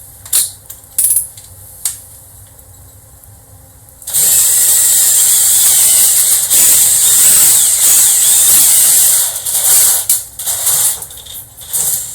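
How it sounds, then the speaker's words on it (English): A drill bores 3/4 inch mounting holes through a Lexan panel for a Royal bubble front surface mount. A few scattered clicks and knocks come first, then a loud, harsh, continuous grinding whine close up for about six seconds before it tapers off. "Now you've drilled all your holes."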